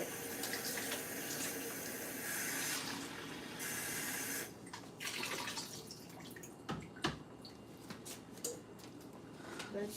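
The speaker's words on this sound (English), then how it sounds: "I'm going to add some cold water to it." Cold tap water runs steadily into a pot in a home kitchen while cooking potatoes and eggs, a continuous splashing rush that cuts off midway, followed by softer clinks and handling sounds with a voice talking quietly over it.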